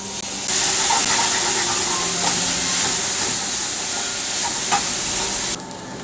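Vegetables fry and sizzle in a hot pan with onion, garlic and ginger, a steady loud hiss with occasional stirring scrapes, the sizzle cutting off near the end.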